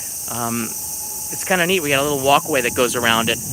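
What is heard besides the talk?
cicadas buzzing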